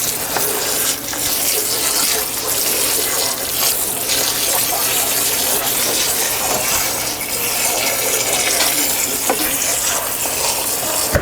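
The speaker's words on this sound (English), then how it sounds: "Trying to make sure that the water doesn't get hot and scald my roots." Tap water runs steadily into a sink while plants are being repotted, a continuous close gush with no pause across the whole stretch and no talking over it.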